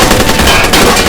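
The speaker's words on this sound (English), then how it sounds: "That's the SMG." A submachine gun fires in a toy war video game, one loud continuous burst of rapid shots close up, with no voices.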